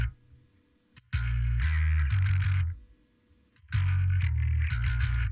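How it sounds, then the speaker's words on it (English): Electric bass recorded direct, playing a section of a Fall Guys song, in two loud sustained bursts of low notes with bright upper harmonics, separated by brief near-silent gaps, with no voices. "Bass is in this section too, which sounds like this."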